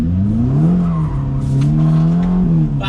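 Ferrari Roma sports car engine droning steadily close by, its pitch rising and falling through gear changes and throttle over nearly three seconds, loud and continuous.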